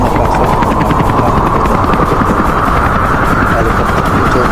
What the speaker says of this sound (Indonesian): helikopter berusaha cepat mengejar John